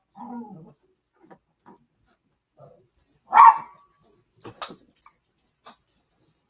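A single sharp, close dog bark stands out midway, surrounded by faint shuffling and a few quieter yips or clicks in a quiet room.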